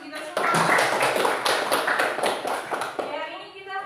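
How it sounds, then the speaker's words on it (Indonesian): A classroom of students clapping hands together at the start of a history lesson, a dense burst of claps that holds steady and then thins out, with a teacher and pupils talking over it. "Berikan tepuk tangan untuk kita semua."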